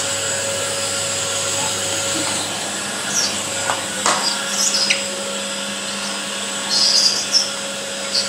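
A Polti vacuum cleaner whirs steadily with a constant high motor whine, nearby and continuous, with a few small knocks and shifts in pitch along the way.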